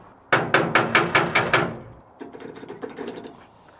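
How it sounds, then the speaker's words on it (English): A hammer strikes a horn solenoid on an old, long-stored Ford Bronco: seven sharp metallic taps in quick, even rhythm, then a softer cluster of lighter rattling knocks, close and clear with no voices. "Let's go tap it with a hammer, see if we can free up the solenoid inside."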